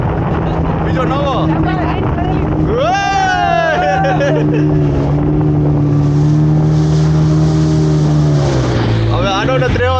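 A motorboat engine drones steadily near Diu, a low continuous hum running under wind noise and people chatting aboard; the engine on this boat is faulty, and a brief rising whine breaks in around the middle.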